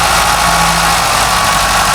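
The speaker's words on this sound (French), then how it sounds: "Il chauffe déjà le moteur." A Ford Scorpio engine idles while it warms up, a loud, steady, close hum with a rough low rumble that continues without a break.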